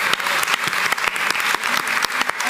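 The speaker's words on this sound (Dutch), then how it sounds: "Ja, applaus voor." An audience applauds warmly at a première evening on dictatorship, dense steady clapping from many hands close by, lasting throughout without voices.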